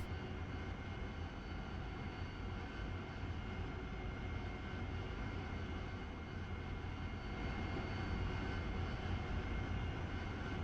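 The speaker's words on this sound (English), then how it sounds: "It's a nice little training flight to get comfortable with flying the Harrier again." AV-8B Harrier jet in the DCS flight simulator game, a steady, even roar of the aircraft engine during a training flight, continuous and fairly quiet with no talk.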